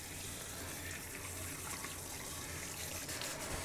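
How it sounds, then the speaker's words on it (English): Tap water runs steadily over fresh mahi mahi steaks and other food being rinsed at a kitchen sink, a constant close hiss of flowing water with no break. "Again, we rinse everything off."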